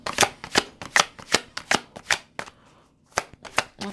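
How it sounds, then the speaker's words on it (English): Tarot cards shuffled and pulled from the deck by hand, a run of about ten crisp, evenly spaced riffling snaps, close and fairly quiet, with a short pause before the last few. "I'm going to have to pull a card on that."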